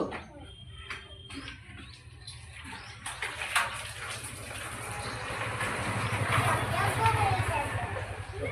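Water pours and splashes steadily onto a TVS motorcycle being washed, growing louder over several seconds, with people talking in the background.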